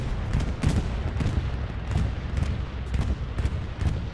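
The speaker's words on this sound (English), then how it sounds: "82nd bombing run about to land" Bombing run explosions in Hell Let Loose, competitive match on the Sainte-Marie map: a steady rumbling roar with repeated heavy booms and blasts landing every half second or so, dense and continuous with no talk.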